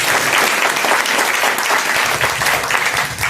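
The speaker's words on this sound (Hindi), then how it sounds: "ताली बजा करके परमेश्वर का धन्यवाद करें" Church congregation clapping in thanks to God, a dense, continuous round of applause from many hands that holds steady throughout.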